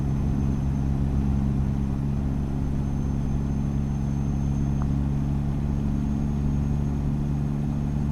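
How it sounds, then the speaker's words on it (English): A heavy truck engine in American Truck Simulator hums at a steady, low drone, close and continuous, with no clear revving or change in pace. "the engine does sound a lot better"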